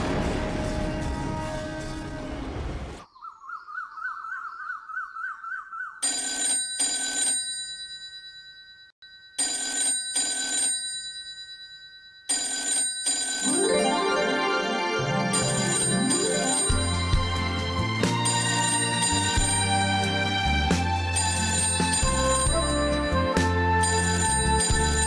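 A telephone rings in a bright, repeated electronic ringtone pattern, set amid dramatic music with stabs and pauses in a household scene.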